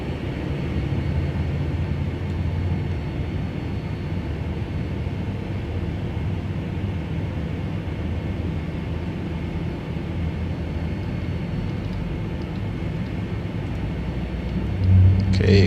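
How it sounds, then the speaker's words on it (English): Boeing 757 engine number 1 spooling up in the Prepar3D flight simulator, a steady low turbine rumble and hum that holds constant and swells slightly right at the end. "Let's get engine number 1 going."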